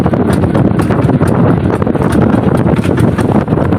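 Strong wind at sea batters the microphone on a small fishing boat out netting lobster in a rough current, a loud, continuous low roar with rapid gusting pulses throughout and no voices.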